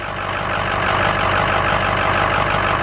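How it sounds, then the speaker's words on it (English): Ford F250 truck engine idles close by, a dense, steady roar with a faint knocking texture and no voices. "I doubt anybody can hear this over the roar of the truck."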